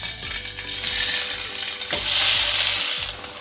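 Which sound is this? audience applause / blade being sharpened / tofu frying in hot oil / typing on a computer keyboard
tofu frying in hot oil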